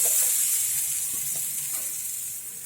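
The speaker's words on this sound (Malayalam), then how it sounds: "ഇതിലേക്ക് നമുക്ക് ചിരകി വെച്ചിരിക്കുന്ന തേങ്ങ ഇടാം." Grated coconut fries in a little oil in a pan for a roasted-coconut Kerala chickpea curry, giving a steady close sizzle that starts strong and eases slightly toward the end.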